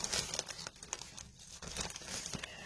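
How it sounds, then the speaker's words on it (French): A paper envelope is handled close by, giving soft, quiet crinkling and rustling with a few brief sharper crackles, and no voices. "ils l'ont remis dans une enveloppe comme ceci"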